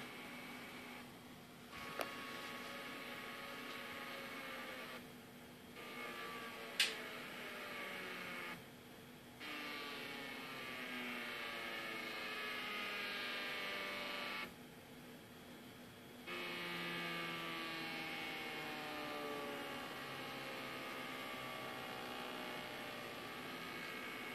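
A stepper motor driven by an Arduino Uno through shift registers and an L293D chip gives off a steady electrical whine whose pitch sweeps up and down, broken by a few short pauses and faint clicks, with no talking.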